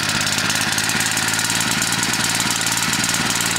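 A generator engine runs on wood pellet gas from a homemade gasifier, giving a steady, loud, close mechanical drone with a fast, even firing rhythm and no pauses.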